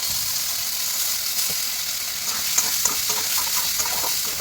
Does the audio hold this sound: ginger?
yes